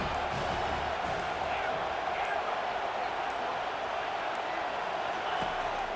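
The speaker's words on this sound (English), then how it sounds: "Third down and the crowd really getting into it." Steady, dense stadium crowd roar from the EA Sports College Football 25 video game, a continuous broadband wash of cheering on a third-down play, loud and unbroken throughout with faint commentary-like tones.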